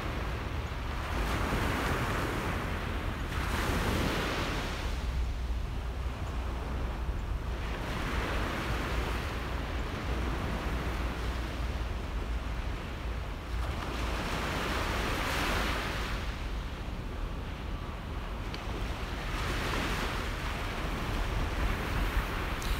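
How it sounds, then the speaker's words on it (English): Ocean surf rolls onto a beach at morning in steady, swelling washes roughly every five to six seconds, a continuous loud roar with some wind noise and no voices. "let's take one last minute here to soak in the sounds of the waves"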